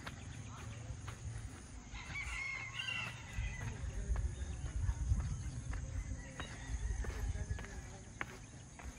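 Horses shuffling and clopping their hooves in a stable in Cebu, Philippines, while a rooster crows and hens cluck nearby, with faint voices in the background.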